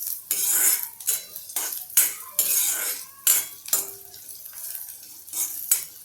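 Finely cut vegetables for fried rice are stir-fried in a pan on full flame, with a series of loud metal spatula clanks and scrapes in irregular bursts, a light sizzle between them and no speech.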